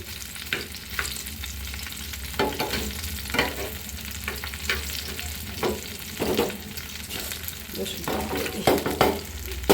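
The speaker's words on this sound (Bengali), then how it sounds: "শুকনো মরিচ আর রসুন এটাও আমি এই ইলিশ মাছ ভাজার তেলে ভেজে নিব" Oil sizzles steadily in a pan as dried chilies and garlic fry in oil left from frying hilsa fish, with occasional scraping stirs of a spatula.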